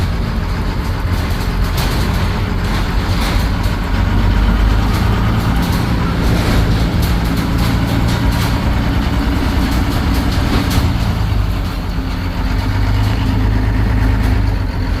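A police squad car damaged by AK-47 fire in a shootout runs with a steady, loud, rumbling engine that continues unbroken, heard up close without talk.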